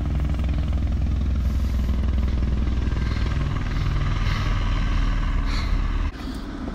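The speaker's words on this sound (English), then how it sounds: "Bro, the helicopter is really coming for us." A police helicopter circles overhead at night, its engine and rotor roar a loud, steady drone that fills the whole stretch and drops off abruptly near the end.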